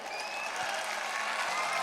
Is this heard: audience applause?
yes